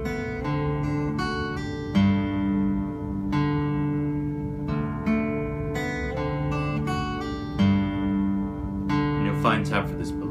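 A slack-key guitar plays a gentle fingerpicked vamp, with bright plucked notes ringing over a slow, deep bass line, steady and close, with no voices.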